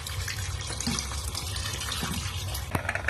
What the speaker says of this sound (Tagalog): maglalagay tayo ng